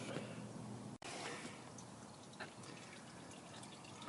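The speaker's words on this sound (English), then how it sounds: "here's what it should look like when you're draining the rest of the fluid" Transmission fluid draining from a car's lowered transmission pan, a faint continuous trickling pour with a brief break near the start, quiet and steady.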